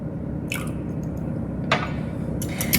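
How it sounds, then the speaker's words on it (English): A whisk or fork lightly beating a raw egg with a splash of water in a bowl for egg wash, giving soft wet squishing and dripping strokes, a few brief clicks against the bowl, close and steady with no talking. "Right now, I am just making a simple egg wash, a lightly beaten egg with just a tad bit of water."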